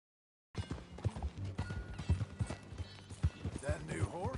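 Galloping horse hooves in a video game as riders head south, a quick, uneven drumming of hoofbeats with game sounds and voices over the ride.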